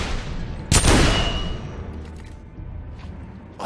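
A single loud gunshot booms in The Order 1886 and decays into a rumbling echo, followed by fainter distant thumps.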